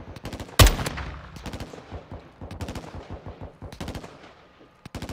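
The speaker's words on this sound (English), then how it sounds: "Where's the... Where's the shooting at?" Rapid automatic gunfire from a Call of Duty Modern Warfare 2 match on PS4, with one loud close shot early followed by repeated bursts of fast rattling fire, some nearer and some more distant, no talk.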